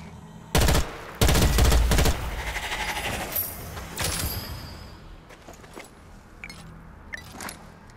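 A Twin Shooter Carbine fires in Strange Brigade, a few loud sharp bursts of rapid gunfire up front, followed by scattered clinks, clatters and fainter shots trailing off.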